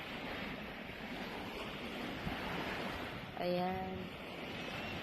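Sea waves wash onto the shore at a daytime camping beach, a constant broad rush mixed with wind, and a voice speaks briefly near the end.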